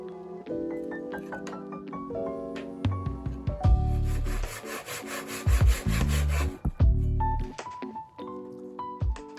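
A hand saw cuts through wood to make thin sheets, with steady rhythmic rasping strokes up close and occasional knocks and handling sounds between passes.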